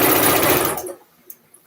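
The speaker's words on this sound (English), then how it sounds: "I'm going to be stitching on both sides of this strap really close to the edge" Sewing machine running a rapid, steady burst of stitching along a fabric strap close to the edge, loud and near, then stopping abruptly, leaving a faint click or two in the quiet.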